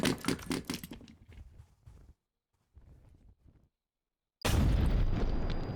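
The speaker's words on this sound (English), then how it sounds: "Just gonna go ahead and toss the nade." In a night-time Operator mode of a video game, a thrown grenade bursts with a loud, sudden blast after a quiet stretch, following footsteps and gear sounds.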